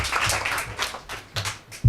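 An audience claps after a poetry reading, producing a brief burst of applause at moderate distance that thins out into scattered claps, with one sharp, louder clap near the end.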